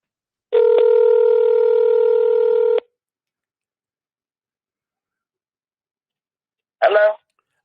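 A phone emits a long steady tone of about two seconds, then silence, then a brief burst of sound near the end.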